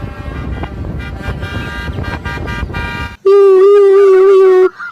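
Toy police car siren sounding loud and close for the last couple of seconds, a steady wailing tone with warbling harmonics, following a stretch of noisy rattling toy play.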